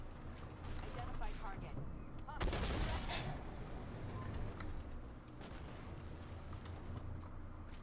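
Rapid cannon fire from a Type 98 Chinese 125 mm main battle tank in the Armored Warfare game, with heavy booming shots amid ongoing battle rumble and a big blast near the middle, while someone talks over it.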